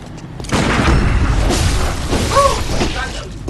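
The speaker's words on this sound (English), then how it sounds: "And they just don't care that their gun just went off." A gun goes off in the video game Bloodborne, a loud booming blast that swells and lingers amid a dense, noisy game soundscape, with voices talking over it.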